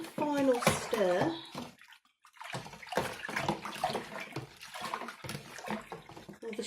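Homemade nettle beer containing ginger, cream of tartar, lemon, orange and dissolved sugar is stirred in a large vessel of about five litres, making soft sloshing and swirling water sounds under near-continuous talking, including a voice.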